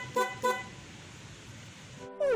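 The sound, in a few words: PIAA horn on Sniper 150 motorcycle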